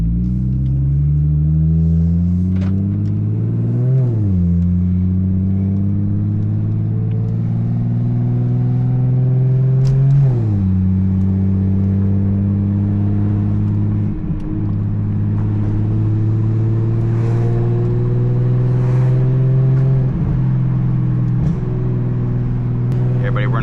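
An 800-horsepower BMW 340i driven in Sport Plus mode, its engine loud and close as it revs up and drops repeatedly through gear changes, the exhaust valves opening to a fuller, rougher roar; someone speaks briefly over it.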